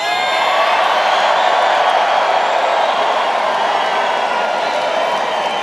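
A large crowd at a packed gym rally for Donald Trump produces a continuous roar of cheering, clapping and whooping that holds steady and loud throughout, with no single voice standing out.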